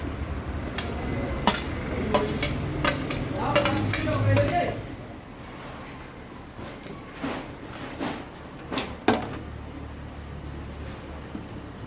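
Ground spice paste is added to a pan and stirred, with a spoon knocking and scraping against the pan in a busy clatter early on, then thinning to scattered clinks.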